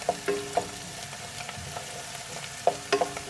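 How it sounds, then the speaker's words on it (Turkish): Tomato paste sautéing in a pan for a green bean dish hisses steadily up close, with occasional spoon taps and stirring scrapes breaking through the frying. "Salçanın kokusu gidene kadar kavuruyorum."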